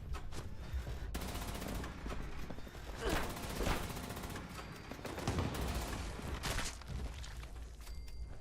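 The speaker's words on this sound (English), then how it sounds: "It's an excuse to use my Gatling laser." Gatling laser fire in the video game Fallout 76, a dense sustained barrage of rapid repeating shots with louder bursts, continuous and close across the whole stretch.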